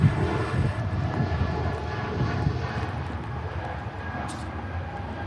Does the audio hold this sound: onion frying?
no